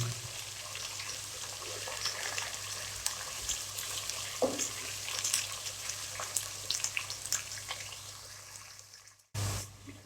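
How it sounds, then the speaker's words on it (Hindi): Onions frying in spiced masala for a mutton karahi, a steady close sizzle and crackle with faint stirring, continuing alone before ending in a brief clatter. "अभी हम इसमें ऐड करेंगे प्याज 2 अदद और अच्छी तरह फ्राई कर लेंगे"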